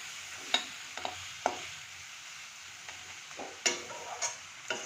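Spice paste with a splash of water being stirred and fried in a pan for a village fish curry, with soft sizzling under a handful of distinct scraping stir strokes spaced a second or so apart.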